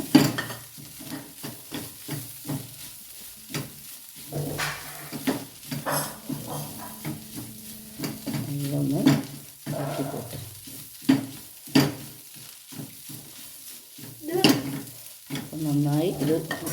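Meat stir-fried in a pan as a filling for a jackfruit snack: repeated scraping strokes of a spatula against the pan over a soft ongoing sizzle, close and rhythmic with occasional louder clatters.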